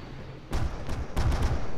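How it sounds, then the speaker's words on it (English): A decoy grenade in the video game Unfortunate Spacemen fakes gunfire: two loud, booming bursts of rapid shots, the first about halfway in and a second, denser volley soon after, with no voices. "I hear gunshots."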